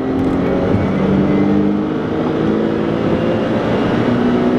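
Nissan 300ZX twin turbo launched from about 4,000 rpm and accelerating hard, a loud, close engine roar with a steady climbing drone that holds strong from start to finish, no talking.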